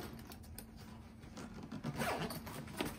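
The zipper on a Yonex semi-hard tennis bag is pulled open in a soft continuous rasp with small scratchy bursts, close and fairly quiet, with no talk.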